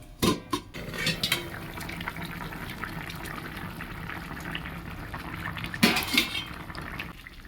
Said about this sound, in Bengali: দিয়ে দেবো জল, এটা ঝোল হবে। ওপর থেকে ঢাকা দিয়ে দেবো।